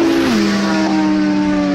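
A BMW accelerates hard past in a high-speed race against sportbikes: a loud, close, sustained engine drone that drops in pitch as it passes, then holds steady, with no talking.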